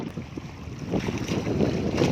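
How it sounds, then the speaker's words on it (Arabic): Sea waves and wind at a breezy seaside spot, a steady broadband wash of surf with gusting wind noise on the microphone, rising slightly over the stretch and heard alone. "الهواء، ريحه البحر، صوت الموج"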